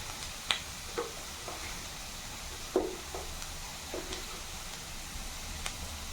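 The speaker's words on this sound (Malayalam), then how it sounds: "ഒരു 1/4 ടീസ്പൂൺ മഞ്ഞൾപ്പൊടി ഇട്ടിട്ട് നന്നായിട്ടൊന്ന് ഇളക്കി" Turmeric powder being stirred into tapioca in a pan for kappa puzhukku, with sparse soft scraping clicks and taps of a spoon against the pan over a quiet low sizzle, no voices.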